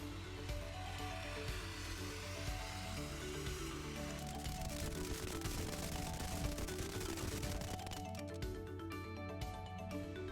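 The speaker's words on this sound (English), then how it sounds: "we even lit up some fireworks and pointed them at the foam so you can see that" Fireworks aimed at spray foam coated with a thermal ignition barrier go off in a dense, crackling barrage of rapid pops and bangs with fizzing sparks that runs continuously for about ten seconds at moderate level.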